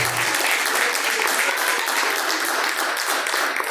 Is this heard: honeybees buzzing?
no